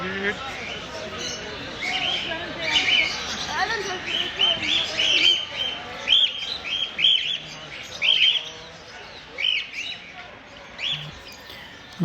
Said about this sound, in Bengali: এখানে যে পাখিগুলো বিক্রি করতেছে এগুলো কিন্তু বাংলাদেশি আছে ইন্ডিয়ান আছে